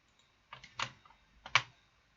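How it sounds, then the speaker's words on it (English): A handful of soft, separate key taps on a computer keyboard, quiet and close, with short irregular pauses between strokes. "I'm just typing in random things that I use daily"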